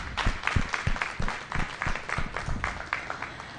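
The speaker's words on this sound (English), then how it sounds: "Let's give the exhibitors and breeders out here a round of applause" Applause for exhibitors and breeders at an Irish Dexter cattle show with cow-calf pairs, scattered hand claps with distinct loud individual claps close by over a broader crowd clapping.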